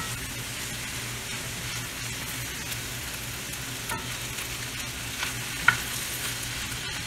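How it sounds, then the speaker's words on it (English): Jasmine rice frying in a pan for kimchi fried rice gives a steady, even sizzle with faint stirring scrapes and a small click near the end, heard alone with no talk. "when you're frying it, it's not sticking together and the texture is so good"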